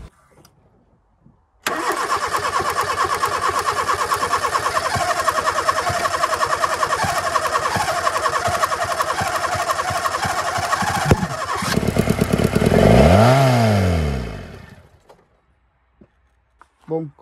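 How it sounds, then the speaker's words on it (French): A Fiat Panda 4x4 that has sat unused for seven years cranks and fires up, its small engine running steadily and loud close by for several seconds, then revving up and falling away as it shuts off. "comme tu viens de voir, elle l'a démarré."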